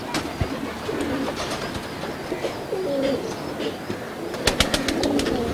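Highflyer pigeons coo softly close by within steady background noise, with scattered clicks and taps mixed in.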